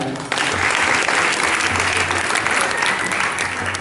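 An audience at a school farewell ceremony claps loudly and steadily, a dense, continuous round of applause from a crowd close by, with no break through the whole stretch.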